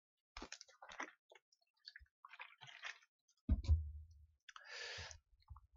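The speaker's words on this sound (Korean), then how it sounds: "물 좀 마실게요" A person takes a drink of water during a sit-down chat: small mouth clicks and lip sounds, then a soft low gulp and a short breathy exhale, all close and quiet without speech.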